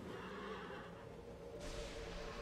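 Horse neighing in a video game, a loud whinny lasting the whole clip over a dense, noisy background of game sounds, with a burst of brighter noise partway through.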